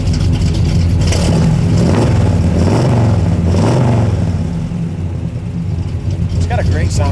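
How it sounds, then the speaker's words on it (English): A 1969 Chevelle's engine rumbles loud and close through its dual exhaust with turn-downs, a deep continuous roar with a few rising and falling revs before easing slightly toward the end. "It's got a great sounding dual exhaust with nice turn downs."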